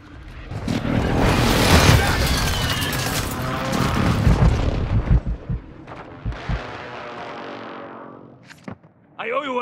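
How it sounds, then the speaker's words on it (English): Precision airstrike explosions in a combat video game: heavy, rumbling booms and crashes that build and swell, followed by scattered sharp impacts and debris, with game character voices speaking over the blasts. "Hostile precision airstrike. Get to cover."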